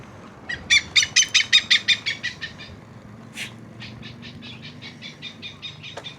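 A park bird chirps in quick repeated bursts, first a loud, fast run of tweets, then one sharp call and a softer, steadier series of chirps over faint background hum.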